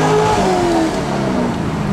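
A Corvette engine revs hard under acceleration, its pitch sweeping upward and then settling into a loud, continuous roar heard up close from inside the car.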